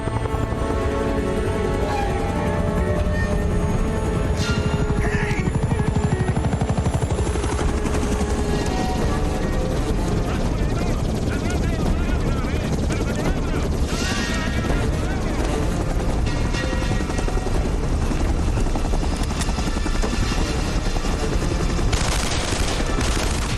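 A helicopter in the video game Uncharted: Drake's Fortune roars loud and continuous, its dense rotor noise mixed with bursts of gunfire and explosions throughout, with a voice talking over it.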